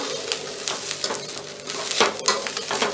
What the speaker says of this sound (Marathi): नारळ घालून चांगलं परतून घेऊया दोन तीन मिनटं परतायचं आहे नारळ आणि तांदूळ एकत्र